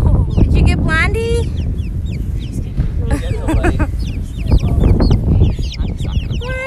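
Young chicks free ranging outdoors chirp and peep in many high, quick calls, close and busy, with clucking from nearby fowl and people chatting throughout.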